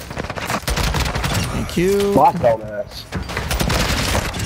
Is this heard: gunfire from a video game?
yes